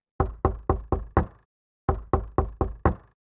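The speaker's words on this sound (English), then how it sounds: "The young man ran up to it and knocked on the door." Two bursts of five firm knocks on a wooden door, evenly paced and close, separated by a short pause, with nothing else heard.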